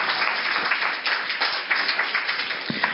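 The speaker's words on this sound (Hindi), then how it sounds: "तो आप लोग अपने लिए तालियां बजाइए।" Audience at a summer camp closing and prize distribution event in Delhi clapping for themselves, a dense, steady patter of many hands at moderate level for about three seconds, with no voices over it.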